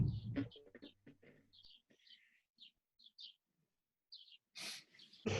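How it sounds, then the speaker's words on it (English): Birds sing outdoors in short, faint, scattered chirps, heard over a video call alongside soft, quiet speech and breathing. "It's outside and we can hear their birds singing."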